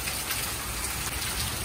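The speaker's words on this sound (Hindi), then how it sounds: "बारिश हो रही है थोड़ी थोड़ी" Light rain falling outdoors, a steady close hiss of drops pattering on surfaces, continuous and even throughout, with no voices.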